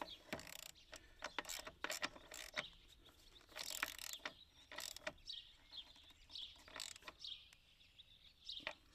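A ratchet clicks in short bursts as a dual-wheel hook is tightened onto the rail of an Allis Chalmers CA tractor, with sharp metallic ratcheting strokes close up and quiet pauses between.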